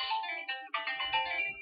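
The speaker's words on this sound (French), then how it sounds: "je m'excuse pour le téléphone. Je ne vais pas répondre pendant la guidance" Mobile phone ringtone playing a bright, melodic electronic tune, quiet and continuous with a few note changes, with no talk over it.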